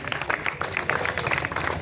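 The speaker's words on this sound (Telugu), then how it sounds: "మరి ఒకసారి పిల్లలు గట్టిగా చప్పట్లతో స్వాగతం పలుకారు" Schoolchildren clap hard together to welcome officials at a village program, a dense, steady burst of applause, close and loud throughout.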